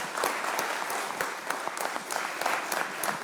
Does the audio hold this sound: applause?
yes